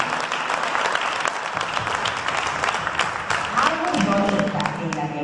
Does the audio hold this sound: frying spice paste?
no